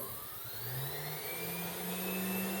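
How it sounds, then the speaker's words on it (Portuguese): A brushless motor on a model aircraft, rated 1200 kV and fed 12 volts, whines and climbs smoothly in pitch as the throttle rises, a close, steady electric hum with no voices. "Conforme eu vou aumentando, vai aumentando o giro do meu motor."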